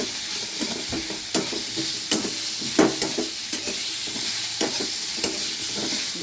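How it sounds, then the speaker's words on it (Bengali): Ginger paste being sautéed in a pan for a vegetarian ridge gourd and potato curry, with a steady close sizzle and frying crackle broken by repeated sharp scrapes and clinks of a spoon stirring against the pan. "আদার পেস্টটা দিয়ে দিলাম। ভালো করে একটু কষিয়ে নেব।"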